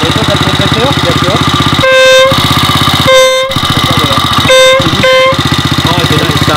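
Air horn fitted to a vintage Motobécane motorcycle, worked by a handlebar lever and fed by a compressor, sounds four loud, piercing blasts of differing length over a steady idling engine rumble.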